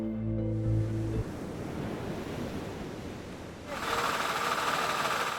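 Steady roar of ocean surf washing onto the shore, broadband and continuous, after a brief mechanical hum at the start.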